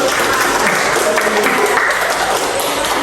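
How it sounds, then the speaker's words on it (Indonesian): A group of classmates or participants clapping together for about three seconds after introductions in an Indonesian class presentation, a dense, steady patter of hands with no talk over it. "tepuk tangan dulu dong"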